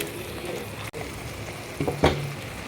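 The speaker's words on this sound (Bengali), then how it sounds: "এই দেখুন মশলাটা কিন্তু আমি দিয়ে তারপর এরকমভাবে একটুক্ষণ কষিয়ে নিচ্ছি" Spice paste for a Bengali katla fish curry sautéing in hot oil, giving a soft, steady sizzle close by, with a couple of brief louder stirring scrapes near the end.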